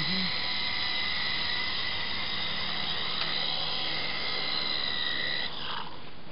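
A small remote-control toy helicopter flies indoors, its rotor and motor giving a steady high whine that holds for several seconds and then shifts and drops at the end, close to the listener.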